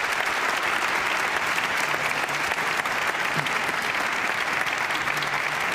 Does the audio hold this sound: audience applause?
yes